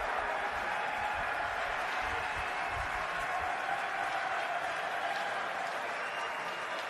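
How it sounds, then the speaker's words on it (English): Steady, sustained applause from a large crowd at the 2017 NFL Draft honoring Hall of Famer Jim Brown, a dense wash of clapping that holds evenly throughout. "a nice round of applause for the Hall of Famer"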